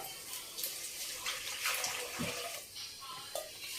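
Water pours from a glass into a pot of measured rice for coconut rice, a close, splashing trickle that rises and falls in bursts, fairly faint and with brief background voices.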